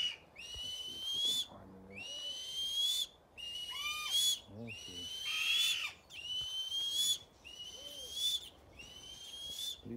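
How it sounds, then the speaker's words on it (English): A long-crested eagle gives about seven high, piercing whistled calls in a steady series, clear and fairly close, with faint chatter between them. "Mila, Eddie, our long crested eagle, there's two"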